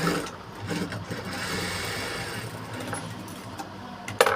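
A sewing machine stitches a blouse in a steady, fast running whir close by, with a brief louder clack at the end and no talking.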